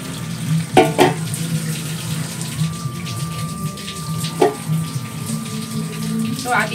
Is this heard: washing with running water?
yes